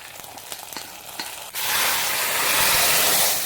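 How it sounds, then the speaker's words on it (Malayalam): Shallots and chili fried in coconut oil for a curry tempering are poured into the curry, setting off a sudden loud, close hiss and sizzle that persists after a quieter stretch of faint cooking noise. "ഉള്ളി മുളക് മൂത്ത് വന്നിട്ടുണ്ട് ഇത് കറിയിലേക്ക് ചേർക്കാം"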